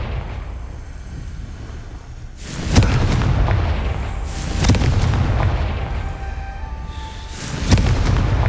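Confringo blasting spell explosions in Hogwarts Legacy, three loud booming bursts spaced a couple of seconds apart over a rumbling background of combat noise.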